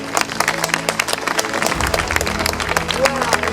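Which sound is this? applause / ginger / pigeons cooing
applause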